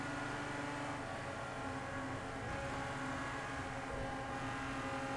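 Race car engine in the racing game Project CARS 2, a faint, steady droning hum with a sustained tonal whine, no voices.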